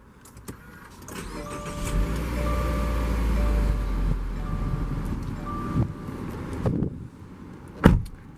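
A 2018 Subaru Outback 2.5i Limited started by push button, with a low engine rumble building and settling into a steady idle over several seconds, a faint chime tone above it and a sharp click near the end.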